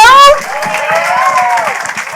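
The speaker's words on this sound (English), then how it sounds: "Give a big round of applause to Matt McKeever." Applause and crowd noise at a live real estate investor event, steady clapping under a loud amplified voice that trails off over the cheering.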